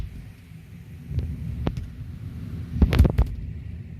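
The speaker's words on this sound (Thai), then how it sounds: "ได้ยินเสียงลมไหมคะ" Strong wind gusts rush and rumble outside a closed window during a thunderstorm with lightning. Several sharp buffets or cracks stand out near the end.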